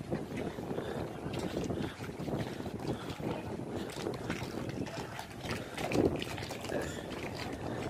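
A motorboat cruises across the water with a steady, dense rush of engine drone, hull and wind noise that stays loud and continuous throughout.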